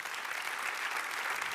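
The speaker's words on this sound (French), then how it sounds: "On vous applaudit." Sustained applause from an audience at an awards evening, dense and even clapping that fills the space without pause.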